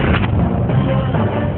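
Fireworks bursting at a town fiesta celebration, a dense, loud continuous rumble of booms and crackles with no pauses between blasts.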